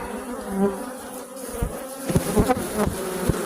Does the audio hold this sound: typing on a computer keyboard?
no